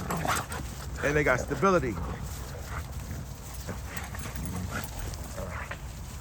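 Co-op kennel dogs bark, yip and whimper excitedly during play, close by and repeated, with someone talking over them throughout.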